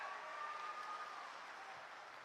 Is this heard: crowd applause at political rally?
yes